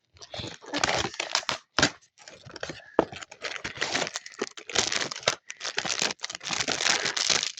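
Crinkling and tearing of a plastic Stitch surprise package being unwrapped, with dense, close rustles and crunches running almost continuously and only short pauses.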